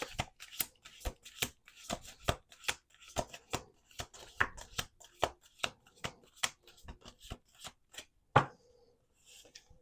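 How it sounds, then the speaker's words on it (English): Oracle cards are shuffled by hand during a reading, with close, rhythmic papery slaps repeating steadily for several seconds, ending in one sharper snap and a brief quiet tail. "1 more shuffle."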